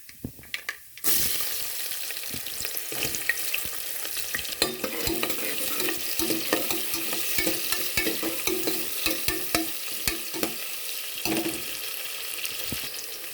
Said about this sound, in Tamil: நம்ம கட் பண்ணி வச்சுருந்த சின்ன வெங்காயத்தை வந்து ஆட் பண்ணிக்கலாம்